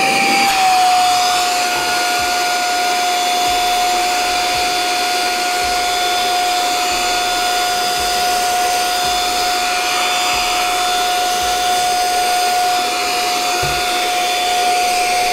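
A Brigii M1 mini handheld vacuum runs continuously with a steady high-pitched motor whine and airy suction rush, loud and close, sustained without pause or speech.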